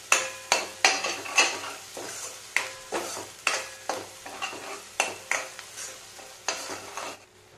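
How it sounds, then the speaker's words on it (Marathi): A ground spice paste sautés in oil while a spoon stirs it in a steady rhythm, with about fourteen evenly spaced scraping strokes over a faint sizzle, close and distinct, no voices. "वाटण छानसं तेलामध्ये आपण परतवून घेणार आहोत."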